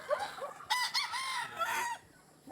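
A young gamefowl stag crows nearby, a short rising call followed by a drawn-out cry, with faint background noise around it.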